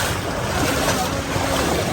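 The Kannara river runs in flood with water released from Peechi dam, pushing against a bridge: a loud, continuous broadband roar of rushing water, close and unbroken throughout.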